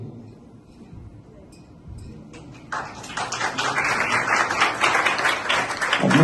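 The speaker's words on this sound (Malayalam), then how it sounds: "അപ്പോൾ എല്ലാവരും അവരെ കൈയടിച്ച് സ്വീകരിക്കല്ലേ" Audience applause at a church anniversary gathering, a broad clapping roar that swells in around the midpoint and stays loud and steady to the end, after quieter murmuring.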